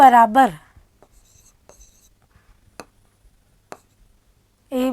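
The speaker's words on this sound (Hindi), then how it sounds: "यहाँ मैं फिर से लिख देती हूँ" Someone speaks briefly at the start and end, and between her words a pen or marker makes faint, sparse scratches and a few sharp taps while a triangle proof is written out for a Class 9 maths lesson.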